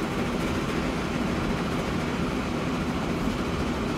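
Train rolling along rails in the Transport Fever game on a UK and Ireland map, a steady dense rumble with no pauses or talk.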